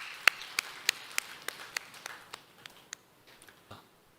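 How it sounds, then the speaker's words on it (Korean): A church congregation claps in praise, about a dozen sharp, evenly spaced claps that slow and thin out toward the end, fairly close with no talking. "영광의 박수 드리겠습니다"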